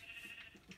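Short sheep bleats from a Minecraft sheep, a few quick wavering calls spread across the moment, fairly quiet and close with no talking.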